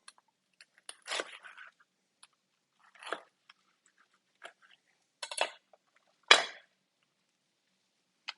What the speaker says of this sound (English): with your knife, you're going to slice the bread into about 6 slices